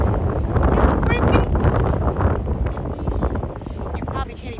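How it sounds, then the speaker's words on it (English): Strong outdoor wind buffets the microphone in a continuous loud, low rumble on an open grassy spot, with a person talking underneath, a hood flapping in the gusts. "You probably can't even hear me because it's so windy."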